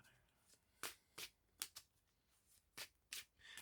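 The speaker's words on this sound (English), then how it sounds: "I have my own way of shuffling." Tarot cards being shuffled by hand: roughly eight quick, crisp riffling bursts in an uneven rhythm, close but quiet, with brief pauses between.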